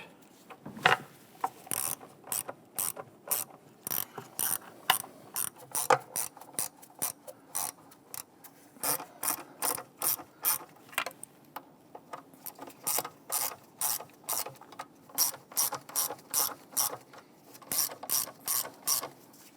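A ratchet wrench tightens the intake bolts on a 2011-2021 Jeep Grand Cherokee 3.6L V6, producing steady, rhythmic runs of sharp metallic clicks in close, repeated bursts with brief pauses between strokes.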